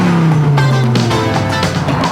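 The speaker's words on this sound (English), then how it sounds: "So the '98 has an exhaust note that sounds like there's 450 horses under the hood." A 1998 Dodge Viper RT/10 Roadster sounds its exhaust note, a loud, close, deep engine roar that drops in pitch as the car moves, with a brief tire-squeal edge and no talk.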